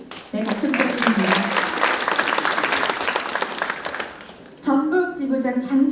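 Audience applause at a policy forum on fishing-boat safety, a sustained round of clapping from a seated crowd that fades after about four seconds, followed by someone speaking over the hall.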